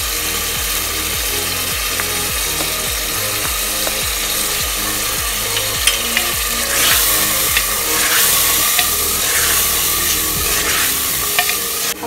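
Meat with browned onions, ginger, garlic and salt fries in a pot for Hyderabadi turai gosht, with a loud steady sizzle. A spoon scrapes the metal in regular rhythmic strokes, and sharp crackles come in later.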